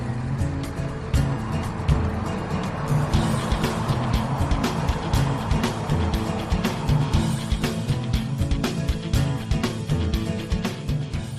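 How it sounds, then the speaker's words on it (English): Lorries driving by on a road near a wooded public footpath, with a steady loud rumble and rush of heavy traffic passing close, continuous with fluctuating engine noise and no voices. "More lorries driving by"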